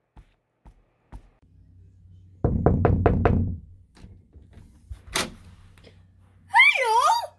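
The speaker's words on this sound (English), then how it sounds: "Who's that at the door?" A door is knocked on with a quick burst of about five sharp raps, after a few faint taps, followed by small thumps and a brief high squeaky voice.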